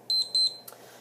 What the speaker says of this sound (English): it's getting ready to beep here, so I've got it set to 2 beeps